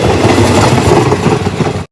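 A train rumbles loudly and closely past Nong Pla Duk junction, with steady clattering wheels and heavy rolling noise that cuts off abruptly at the end.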